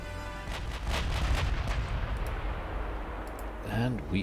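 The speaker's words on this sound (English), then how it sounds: "And we are already firing." Naval guns firing in Ultimate Admiral Dreadnoughts, with booming salvos rolling into a continuous rumble of artillery, loud and sustained, while a voice speaks briefly near the end.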